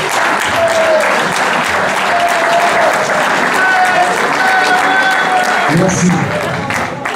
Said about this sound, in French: Nous pouvons applaudir.